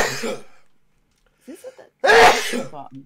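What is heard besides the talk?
sneeze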